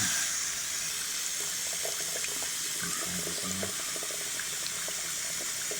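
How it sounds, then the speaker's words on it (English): A sink tap runs steadily while a brush scrubs an armor-etched glass piece, giving a soft continuous splash with scattered scrubbing and clinking sounds close by. "It's time to take this out and wash it off in the sink with the brush."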